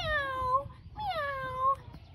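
A voice imitates a cat with two drawn-out, sliding meows, one after the other, close and clear.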